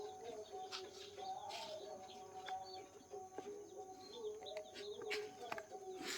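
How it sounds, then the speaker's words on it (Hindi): White Pekin ducks kept alongside rohu, catla and mrigal fish at a fish-and-duck farming unit, with faint scattered calls and chirps over a steady outdoor background. "यहाँ मछली के साथ बतख पालन है। इसके भी मछली का किस्म है रोहू, कतला, मृगल, और बतख में वाइट पैंकिंग।"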